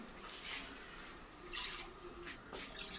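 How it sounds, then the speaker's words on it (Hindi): Water poured into a cooking pan while preparing egg curry, a soft running splash with a few brighter gushes, close and fairly quiet, with no talking. "अब इसमें डालेंगे वाटर"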